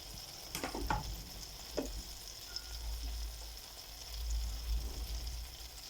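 Onions and garlic frying in oil over tomato paste on low heat, a soft continuous sizzle with a few sharp utensil taps near the start.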